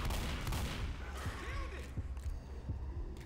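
Gunfire in the co-op zombie shooter Left 4 Dead on the No Mercy campaign at Expert difficulty: several sharp shots crack at irregular intervals beneath a busy layer of game noise, fairly quiet overall.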